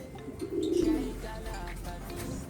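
Pigeons give a brief, soft, low coo, close by against a quiet background.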